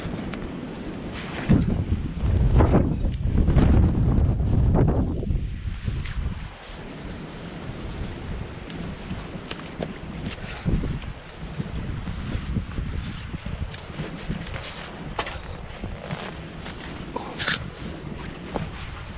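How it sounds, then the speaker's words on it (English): Gusty wind roars and buffets the microphone at a riverside barbel fishing peg on the River Severn near Arley, loud in the first five seconds, then settling into a steadier, lighter rush of wind noise. "the only trouble is it's the wind"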